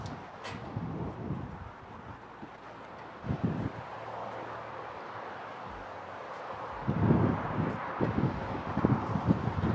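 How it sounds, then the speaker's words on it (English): Gusts of wind buffet the microphone in low rumbling bursts, quiet between gusts and stronger toward the end. "I think it's pretty windy."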